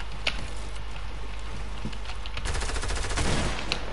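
Rapid SMG fire in a video game: sparse single shots at first, then a dense burst of automatic rounds near the end, loud and close with no talking.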